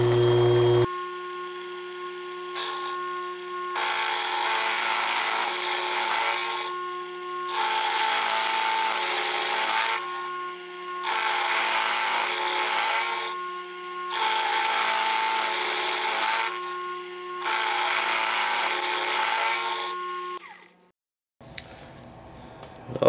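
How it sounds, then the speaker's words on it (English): A 1/4 inch end mill cutting slots straight through a vise hold-down on a milling machine, steady whining cutting passes repeating in roughly even bursts with brief quieter gaps, machine hum constant underneath. "I'm just going to use the same stop, 1/4 inch end mill straight through"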